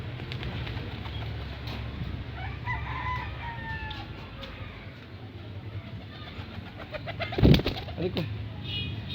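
Pet pigeons cooing and fluttering close by over a steady low background rumble, with a rooster crowing and a louder burst near the end.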